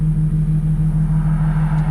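Heard from inside a car with its rear seats removed, the exhaust gives off a loud, steady low drone and rumble that stays constant through the short moment, with no talking.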